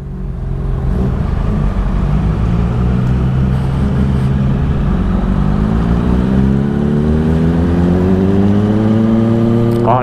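A Triumph Sprint ST motorcycle runs loud and close on the road, its engine note rising steadily as it accelerates through the gears, with constant wind and road roar throughout.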